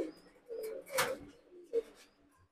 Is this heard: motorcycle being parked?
no